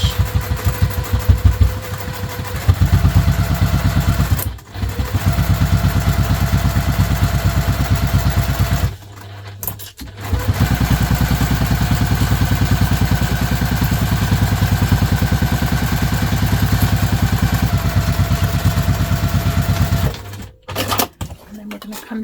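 A sewing machine stitches a vinyl zipper project bag, running in a steady fast mechanical whir with brief stops and restarts; a person talks over it.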